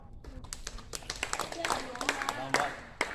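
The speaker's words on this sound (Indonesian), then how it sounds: "tepuk tangan untuk kelompok" Children in a classroom clap for a group after a relay-race lesson, scattered uneven claps at close range with voices mixed in.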